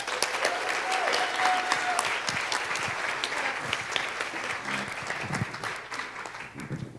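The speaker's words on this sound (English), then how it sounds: "Can we give Dean a round of applause?" Sustained audience applause for a student activist speaker at a Sunrise Movement event in Asheville, loud and close with dense steady clapping that thins slightly toward the end, a few voices mixed in.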